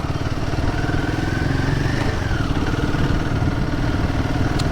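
A Royal Enfield Guerrilla 450 motorcycle engine pulls steadily in second gear around 2000 RPM, a continuous close, loud mid-pitched drone with faint mechanical clatter and no talking.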